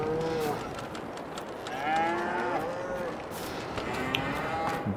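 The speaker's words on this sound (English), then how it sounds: "Check the cows here." Several cows in the Farming Simulator 22 video game moo in overlapping calls, drawn-out lowing that rises and falls over a steady farmyard background, fairly close and clear with no talk.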